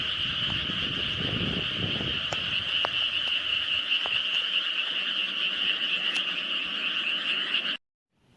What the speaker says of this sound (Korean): 엄청 개구리 소리가 들리네요.